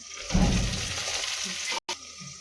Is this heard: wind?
no